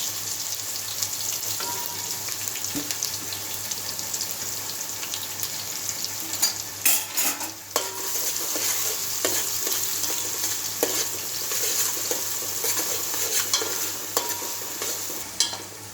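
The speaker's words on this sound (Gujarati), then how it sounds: "તો હવે આપણે આદુ એડ કરવાની, અને આપણે લીલું લસણ એડ કરવાનું. તો આપણે આ કેપ્સિકમ એડ કરી દેવાનું." Ginger, green garlic and capsicum tossed into hot oil, crackling and sizzling steadily while a spatula clatters and scrapes in repeated bursts.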